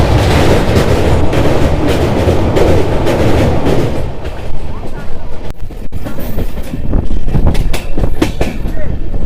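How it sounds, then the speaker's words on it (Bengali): An LHB passenger train, 13173 Sealdah–Sabroom Kanchanjunga, runs on rails near Nayati Junction, a loud, close rumble with rhythmic clattering of wheels over joints that eases partway through, then returns with sharper clicks. "আমাদের ট্রেন এখন ঢুকছে নয়াটি জংশন রেলওয়ে স্টেশন"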